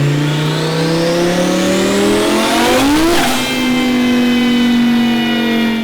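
A Lamborghini race car engine revs loudly on a dyno, its pitch climbing steadily and peaking about halfway through before holding a high, sustained roar close by.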